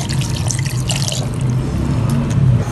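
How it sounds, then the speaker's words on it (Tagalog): A glass of water pours into a pot of fish paksiw, a steady close splashing and trickling stream that runs without pause. "So, lalagyan ko siya ng isang basong tubig."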